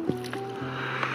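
A motorboat runs between two walls, its steady engine drone rocking slightly with water sloshes and a few knocks, close and constant.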